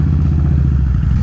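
Harley-Davidson motorcycle engine running loud and close, a steady low rumbling throb with a rapid rhythmic lope and no talking.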